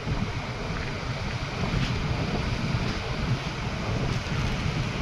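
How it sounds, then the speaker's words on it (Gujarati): Sea waves wash continuously along the seashore where fishing boats sit, a loud, steady surf roar mixed with buffeting wind against the microphone. "દરિયો બતાવું મિત્રો"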